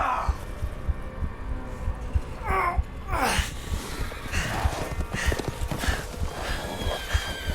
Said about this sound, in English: They're riding horses?